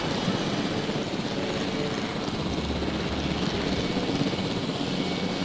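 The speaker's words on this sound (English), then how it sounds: "now we're going to take this helicopter and we're going to go drop that Draco Rex" Helicopter in Jurassic World Evolution flying steadily, a continuous broad rotor and engine wash holding at even loudness throughout, with no talking.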